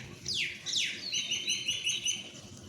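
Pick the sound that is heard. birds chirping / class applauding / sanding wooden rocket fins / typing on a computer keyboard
birds chirping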